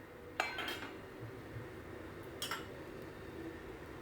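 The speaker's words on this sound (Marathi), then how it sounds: "आता आपण कढीवरचं हे झाकण काढून पाहायचं आहे" A lid comes off a kadhai of stuffed capsicum (shimla mirchi) cooking on the stove, giving a couple of sharp metal clinks and clatters against a quiet kitchen background, without speech.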